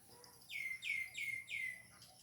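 A rescued baby bird chirps from inside a tall tube: four bright, high chirps repeat in a steady rhythm, fairly close and clear over a low background hum, with no one speaking.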